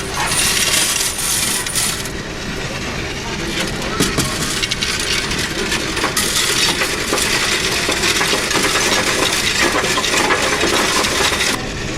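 A Coinstar coin counting machine runs steadily, a dense continuous rattle and clatter of coins tumbling through the sorter, close and loud throughout with no pauses.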